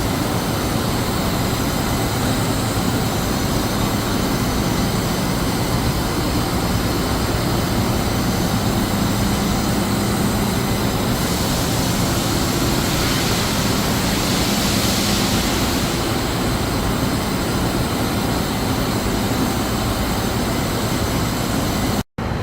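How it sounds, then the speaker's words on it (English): A Kitamura MyTrunnion 5 machining center (2017) running with its spindle turning, giving a loud, continuous broadband whirring and rushing noise that holds steady throughout and cuts off abruptly at the end. "Kitamura MyTrunnion 5 in operation."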